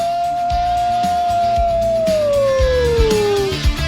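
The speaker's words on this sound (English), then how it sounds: "We begin with a howl." A single long, loud howl sound effect that holds its tone, then slowly slides downward, backed by a rhythmic music bed at a radio show opening.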